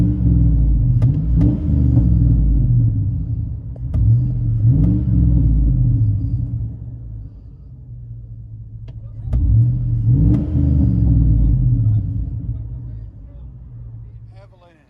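From inside the cab of a 2004 Chevy Avalanche, the 5.3L V8 with Flowmaster Flow FX exhaust drones low and deep, surging in a few rev swells with quieter stretches between.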